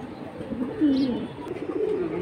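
A male Jabra Pankhi pigeon for sale at a pigeon market calls close by with a low, rolling coo over a busy background murmur.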